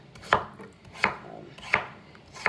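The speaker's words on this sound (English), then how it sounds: "if you're chopping vegetables, it runs pretty quick" Vegetables being chopped on a cutting board for a Czechoslovakian/Slovak chicken goulash: four distinct, evenly spaced knife strikes, close and clear, with no talking.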